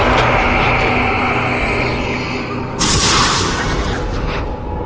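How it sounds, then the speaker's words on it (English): Gunfire in the VR shooter Dead and Buried: dense, loud booming shots and rumble, with one sharp, bright blast about midway. "Let those bullets fly"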